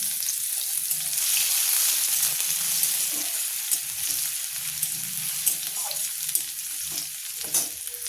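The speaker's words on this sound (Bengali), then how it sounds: "শুকনো লঙ্কা ভাজা হয়ে গেছে, এরপরে রসুনটা দিয়ে দিলাম" Garlic sizzles and crackles in hot oil with fried dried red chillies, a steady close frying hiss with occasional stirring scrapes.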